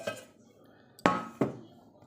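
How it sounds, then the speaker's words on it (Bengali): A lid lifted off a cooking pot of potato and cauliflower curry in a home kitchen, heard as two sharp metallic clanks about a third of a second apart, close and clear, after a faint earlier rattle. "ঢাকাটা খুলে নিই"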